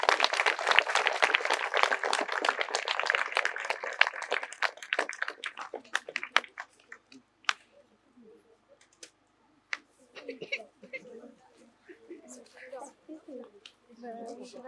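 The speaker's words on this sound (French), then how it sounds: "On peut applaudir, merci." Applause at an outdoor commemoration ceremony in the Saint-Sauvant forest, steady clapping from a gathered group that thins out to scattered claps and then fades, followed by quiet talk.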